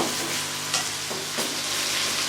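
Meat fries with onions in a pan, a dense and steady sizzle close by with faint stirring scrapes, continuous throughout with no voices.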